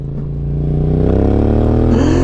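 A Yamaha MT-07 motorcycle's exhaust revs up hard and holds a loud, throbbing drone, close by, rising steadily in pitch over a couple of seconds with no talking.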